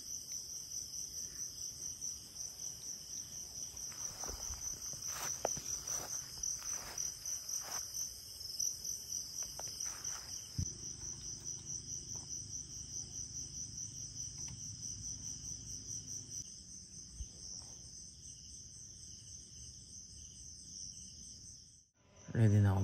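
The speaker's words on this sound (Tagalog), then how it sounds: "Sobrang tahimik dito sa lugar. Puro kuliglig lang." Crickets chirp steadily at night at a beach campsite in San Juan, Batangas, a dense high pulsing trill running throughout, with faint low rumbling underneath and a sudden loud thump at the very end.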